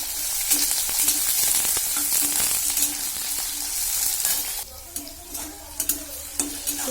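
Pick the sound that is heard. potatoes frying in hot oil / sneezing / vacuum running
potatoes frying in hot oil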